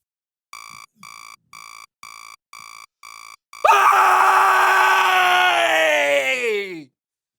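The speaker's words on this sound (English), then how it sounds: "when I wake up in the morning, I have a habit of screaming before I do anything else." A person lets out a long, loud morning scream that starts abruptly and trails off downward over about three seconds, following a series of short evenly spaced electronic beeps.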